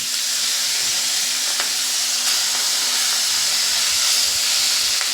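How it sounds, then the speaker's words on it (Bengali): Fish heads frying in oil in a wok, a steady broad hiss of sizzling oil with faint scattered pops, close and continuous throughout without speech. "এই যে একই কড়াতে মাথা দুটোকেও আমি ভেজে নেব।"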